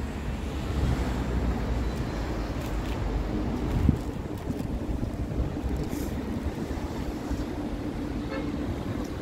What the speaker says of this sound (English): the wind is blowing heavy